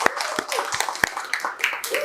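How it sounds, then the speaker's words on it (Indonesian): Sparse audience clapping at an Aceh oral-tradition planning session, a handful of distinct sharp claps rather than full applause, mixed with background talk. "boleh tepuk tangan yang meriah sekali lagi buat kita"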